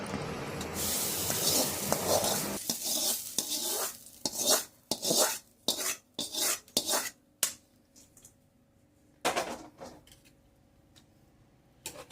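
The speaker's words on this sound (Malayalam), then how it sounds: "ഇനി നന്നായിട്ട് അങ്ങോട്ട് മിക്സ് ചെയ്യാം എല്ലാം കൂടി" Biryani mixed with fried cashews and raisins in a pot, heard as a series of close, sharp scraping and clattering stirs in bursts separated by quiet pauses.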